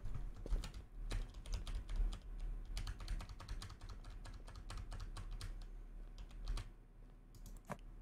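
Rapid clicking of a computer keyboard being typed on, a steady run of close, crisp keystrokes across the whole stretch with a few heavier taps, no voices.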